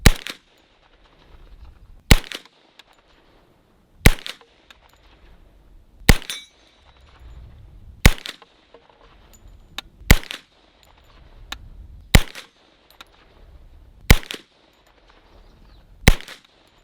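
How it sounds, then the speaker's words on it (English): A CMMG MK10 Banshee 10mm firing 180 grain Fiocchi jacketed hollow points at an outdoor range, with nine sharp, loud single shots evenly spaced about two seconds apart and faint clatter between them. "We're gonna be shooting a 180 grain jacket hollow point loaded by Fiocchi."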